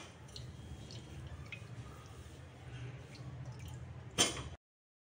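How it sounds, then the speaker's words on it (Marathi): Washed sweet potato slices draining off their rinse water, a steady soft trickle and drip that swells into a brief louder splash before stopping abruptly. "आता याचं पाणी निथळून काढू"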